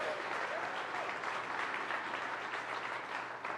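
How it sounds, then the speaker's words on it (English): Church congregation applauding during a service, a dense, even wash of many hands clapping together, sustained and fairly distant in a large room. "So let's give it a round of applause."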